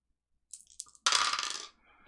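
Dice for a blaster rifle's damage roll in a tabletop game clatter briefly, with a few light taps followed by a louder rattling tumble that settles after about half a second, close and alone.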